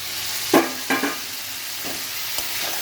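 Pointed gourds (potol) tipped into a frying pan of hot oil, several close thumps and clatters as they land, followed by a low continuous sizzle.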